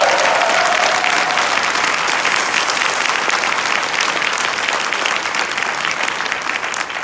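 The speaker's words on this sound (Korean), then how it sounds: "그럼 박수 한번 칠까요?" Seminar audience applauding together at a company event in a hotel hall, dense loud clapping that stays steady for several seconds before thinning slightly.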